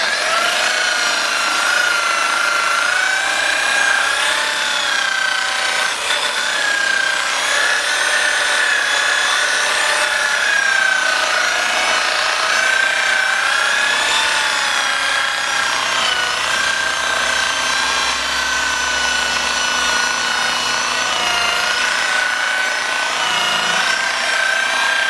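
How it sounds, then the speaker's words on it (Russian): An acrylic sheet edge being polished with a polishing wheel on a power tool, producing a steady whining rub with a sustained tonal hum and continuous abrasive hiss, loud and uninterrupted throughout. "И потихонечку полируем."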